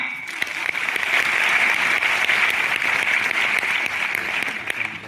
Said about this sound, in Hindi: बहुत सुंदर, प्रदीप जी के लिए तालियां।